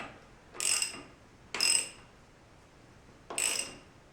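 A wrench clicks on a bolt as a Kawasaki KZ 750 front fork is snugged down, three short bursts of metallic ratcheting spaced apart over a quiet background.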